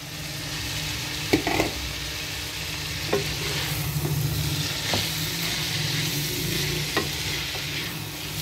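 Boiled pasta is stirred into a pan of sizzling white sauce for chicken white pasta, a steady frying hiss with occasional soft spoon knocks against the pan.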